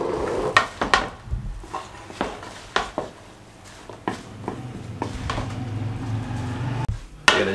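Fruit salad being mixed with lemon juice in a bowl, with irregular clinks and scrapes of a spoon against the dish, sharp knocks now and then, and soft stirring between them, close by.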